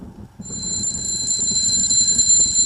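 An alarm clock rings at six in the morning in Le Bouissou, a shrill, steady electronic ring that starts after a brief pause and carries on loudly and unbroken to the end.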